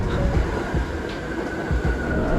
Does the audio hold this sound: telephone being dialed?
no